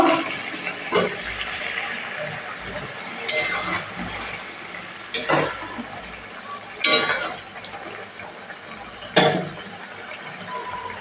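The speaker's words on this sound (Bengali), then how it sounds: "ঢাকনাটা খুলে দেখে নেব" A metal lid comes off a pot of simmering river tengra fish curry with clinks and knocks, amid several scattered bright clatters of cookware and background kitchen sounds over about eleven seconds.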